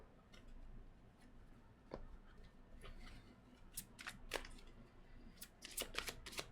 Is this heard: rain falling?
no